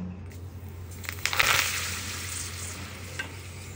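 Food sizzles and crackles in hot oil, swelling to a louder burst of frying before settling into a steady, close hiss, with a few stirring scrapes.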